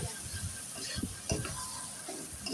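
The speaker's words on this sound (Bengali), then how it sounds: "ভালোভাবে নাড়াচাড়া করতে হবে যাতে তলানিতে লেগে না যায়।" Mutton being stirred with spices in a pan, a spoon scraping and turning the meat in a few soft, irregular strokes over a faint, steady sizzle.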